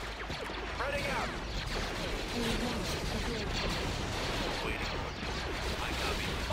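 Gunfire and artillery in a Star Wars strategy video game sound as a dense, continuous battle din of blasts and mechanical clatter, with unit voice lines heard over it.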